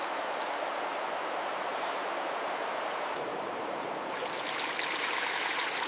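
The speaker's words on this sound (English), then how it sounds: "Now I work the concentrate slowly, letting the lighter dirt rise and wash away." Rushing river water swirls and splashes steadily in a canyon as concentrate is washed in a gold pan, a continuous close hiss of flowing water with occasional sharper sloshes and no talk.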